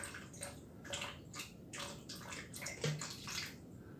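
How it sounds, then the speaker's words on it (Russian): Water poured from a bottle into a measuring cup in a home kitchen while preparing pickled tomatoes, a quiet, close, uneven gurgling stream with small splashes. "Наливаю мерную кружечку"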